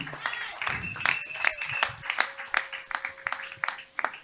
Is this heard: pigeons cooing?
no